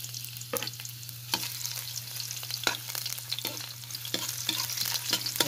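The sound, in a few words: ginger sautéing in a pan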